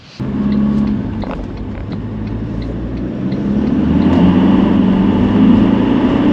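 An old 2.8-litre four-cylinder car drives along, its steady engine drone and road rumble building gradually in loudness, heard close from inside with no one talking.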